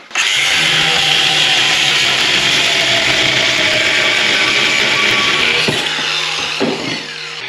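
A power saw cuts straight through a piece of wood, whining loudly and continuously for about six seconds before the blade spins down with a few clunks. No talking.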